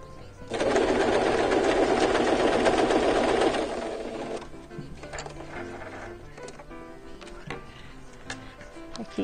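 Sewing machine stitching along a pressed crease in fabric backed with interfacing for a quilted patchwork basket, a loud steady run of about three seconds that stops, followed by quieter handling and rustling.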